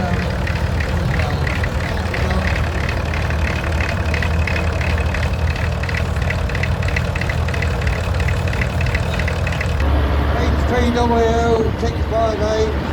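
A vintage Oxford blue tractor idles at the 2025 Stradsett steam rally in Norfolk with a steady, loud low engine rumble throughout. Someone talks over it and the background shifts slightly near the end.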